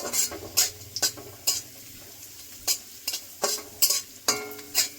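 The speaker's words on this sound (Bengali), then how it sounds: "ঘি দিয়ে কাজু কিশমিশ ভাজলে একটু সেন্টটা ভালো হবে বন্ধুরা, তার জন্য আমি ঘি দিয়ে ভেজে নিচ্ছি।" Cashews and raisins frying in ghee for sago payesh, a spoon scraping and stirring the pan in sharp intermittent strokes over a soft sizzle, close up, with no voices.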